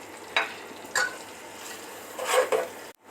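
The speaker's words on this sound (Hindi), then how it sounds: "तो 2-3 मिनट तक फ्राई करूंगी प्याज को मैं।" Finely chopped onions fry in a hot pan under a low sizzle, broken by a few sharp stirring scrapes of a utensil against the metal.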